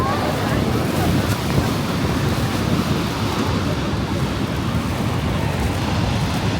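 Niagara Falls roaring up close, a dense, steady wash of water noise with wind buffeting the microphone, constant and loud throughout.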